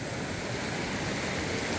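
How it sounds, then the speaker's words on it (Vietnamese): A small stream rushes and flows continuously, a dense steady wash of water noise with no pauses, fairly loud and close, with nothing else standing out. "Ở đây thì có một cái đoạn khe suối nhỏ mọi người."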